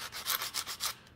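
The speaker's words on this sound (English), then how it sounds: "We're just going to be hand sanding." Hand sanding on wood with 80-grit sandpaper: several rhythmic back-and-forth rasping strokes, close and fairly loud, with no voices.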